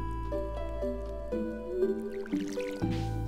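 Crops being watered with a watering can in Stardew Valley: soft game splash and drip effects repeat over gentle steady background music, with no talking.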